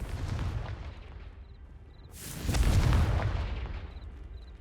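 A Confringo fire spell bursts in Hogwarts Legacy, a deep booming blast that swells up loud in the middle over a low rumbling battle background, with faint chimes at the edges.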